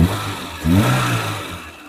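A Maruti Wagon R LXi engine revs briefly as the accelerator is blipped, rising from idle to a short mid-pitched surge and then settling back to a quieter hum, close and alone.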